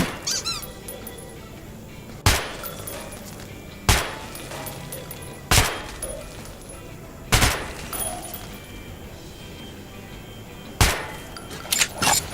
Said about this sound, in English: We'll fire off a few rounds.